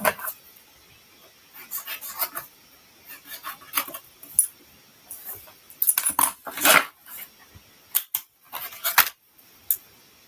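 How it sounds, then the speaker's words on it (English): Scissors snip through coloured paper for card making in a run of short, crisp, close cuts, bunched into irregular bursts with brief pauses between them, heard alone with no talking. "let's cut that out"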